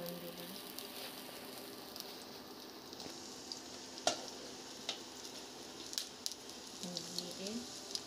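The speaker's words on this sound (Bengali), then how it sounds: "জিরে ফোড়ন দিলাম" Cumin seeds sizzle in hot oil in a pan for dal tempering, a soft continuous crackle with occasional sharp pops and ticks, fairly quiet, with a voice faintly present at moments.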